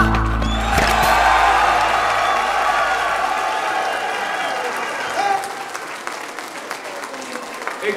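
Audience at a school end-of-year party applauding loudly and steadily, a dense crowd of clapping with some cheering that slowly thins and fades over several seconds.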